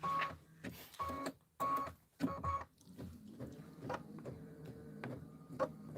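A home embroidery machine stitches out a Kimberbell Home Sewn tiling design in bursts of mechanical whirring, broken by short pauses and clicks, with a voice briefly speaking nearby.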